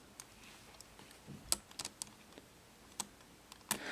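Plastic ratchet joints on a Gaiking action figure from Evolution Toy's Dynamite Action line click in short, sharp bursts, a few isolated clicks and small clusters, fairly quiet and close with no talk.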